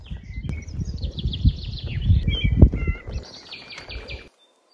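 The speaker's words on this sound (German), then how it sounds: "Und hört mal die Vögel." Birds sing and chirp outdoors beside a mountain road overlooking a valley, bright high calls scattered over a low rumble of wind or a motorcycle idling, fairly near and steady before cutting off.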